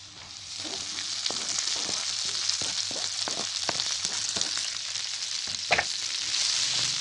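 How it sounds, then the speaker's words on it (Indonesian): Red chili and scallions sizzle steadily in hot oil, close and fairly loud, with the sharp taps and scrapes of a spatula stirring them throughout. "Baru kita masukkan cabai merah dan daun bawangnya."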